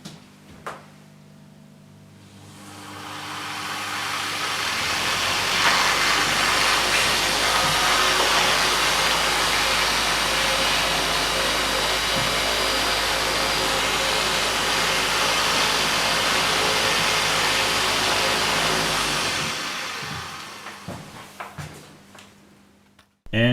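A washing machine universal motor driving a ducted propeller, fed about 80 volts AC from a variable isolation transformer, spins up into a loud, steady whirring roar with rushing air, holds for about fifteen seconds, then winds down to silence.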